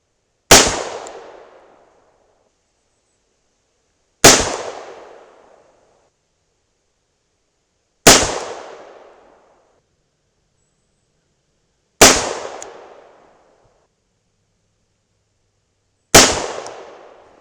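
Five sharp, loud reports from .38 Special +P rounds with 125-grain Hornady XTP bullets, fired singly about four seconds apart, each with a crack and then a quickly fading echo.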